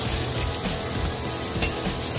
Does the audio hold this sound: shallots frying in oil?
yes